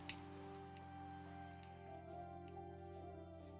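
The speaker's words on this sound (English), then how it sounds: "it's starting to rain" Rain falls in the video game Minecraft, a faint, steady patter layered over a quiet, humming tonal backdrop with no voices.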